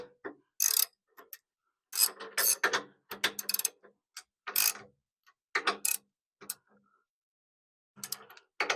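A ratchet tightens bolts on the recovery points of a 2025 Toyota 4Runner, producing close, crisp bursts of rapid clicking separated by short silent pauses.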